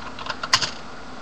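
Several quick keystrokes tap on a computer keyboard, close and crisp, with one louder press standing out in a brief, quiet burst of typing.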